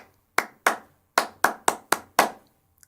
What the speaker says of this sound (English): give them a rhythm pattern and they'd clap it back to me